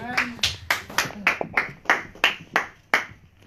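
A church congregation at a French-language worship service applauds with loud, evenly spaced claps, about a dozen sharp hits in a steady rhythm and nothing else heard between them.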